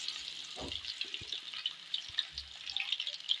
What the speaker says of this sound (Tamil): தோலோடு நம்ம இடித்து எண்ணெயில் ஃப்ரை பண்ணி எடுத்து